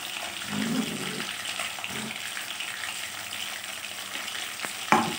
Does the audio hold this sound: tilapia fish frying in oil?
yes